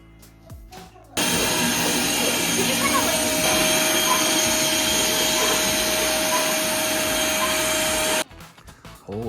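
A power saw cuts a pass-through opening in an interior wall along a marked outline, running loud and steady for about seven seconds before stopping abruptly.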